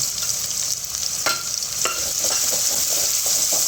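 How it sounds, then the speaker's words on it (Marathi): Sliced onion frying in oil in a pan, a continuous bright sizzle with a few sharp stirring scrapes near the middle, heard up close without voices. "हा स्लाईस केलेला मी कांदा घेतला आहे हा छानपैकी तेलामध्ये परतायचा"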